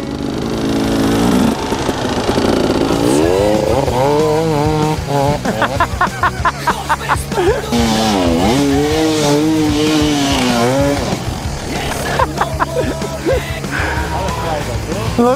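An enduro motorcycle engine revs hard and close, its pitch sweeping up and down in repeated bursts over about fifteen seconds, with people talking and shouting over the noise.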